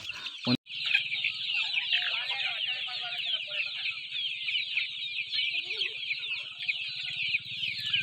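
Native country chickens on a rural farm cluck and chatter continuously at close range, with steady farmyard bird calls filling the background throughout.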